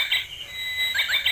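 Short bird chirps and tweets, two quick bursts of high calls separated by a pause, moderately loud, played as the answer in an animal sound guessing game.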